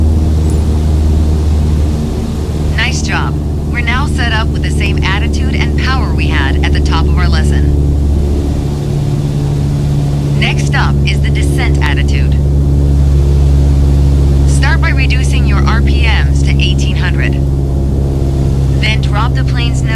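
A simulated Cessna 152 piston engine in Microsoft Flight Simulator 2020 drones loud and steady throughout, its pitch easing slightly partway through, while a voice talks over it.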